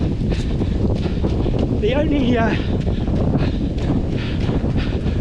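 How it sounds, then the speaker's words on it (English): Outdoor wind during a training run for the Marathon des Sables, a steady broadband buffeting close to the microphone that runs through the whole stretch under someone talking. "the wind is pushing me back a bit"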